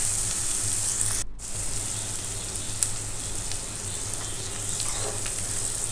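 Chopped onions sauté in a pan for a quail and cashew curry, a steady close sizzle with a faint low hum underneath and a brief dropout near the start.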